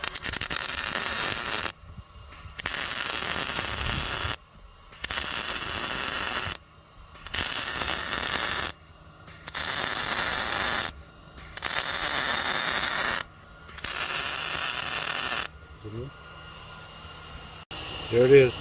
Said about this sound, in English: Now I'm just going to weld this area.